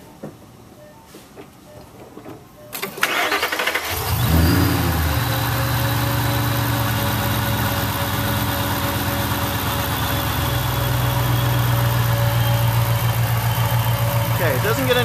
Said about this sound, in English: we've got it on an engine, a supercharged engine, drawing vacuum